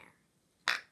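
Flarp putty squeezed in a container gives one short, sharp squelch, a wet airy pop that stands out clearly in otherwise quiet surroundings.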